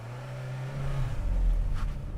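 A Volkswagen Golf Mk8 hot hatch engine accelerating hard from a standstill to 60 mph, a steady low drone that rises in pitch and swells louder as revs climb, heard close from inside the car with no talking.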